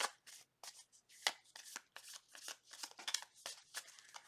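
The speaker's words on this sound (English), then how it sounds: "One more shuffle, please." Tarot cards are shuffled repeatedly up close, a rapid run of crisp riffling and flicking sounds with brief pauses, no voices.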